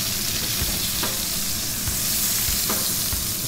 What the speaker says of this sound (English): We're going to put in the carrots, garlic, stir that around a bit